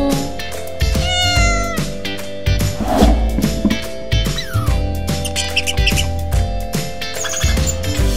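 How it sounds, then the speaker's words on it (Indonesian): Cat meowing in an animal guessing game for children, a few meows heard over a loud, steady musical backing with drums and bass. "Kucing."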